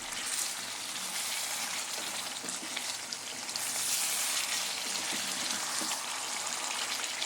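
Dhania chicken sizzling and frying in a pan as it is stirred and turned over, a steady dense crackle with soft scraping bumps, close and continuous with no talk.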